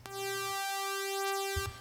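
High-pitched, piercing synth lead tone from an Operator layer, a steady sustained note with bright buzzy overtones held for nearly two seconds, alone and up close, with a brief low thump near the end.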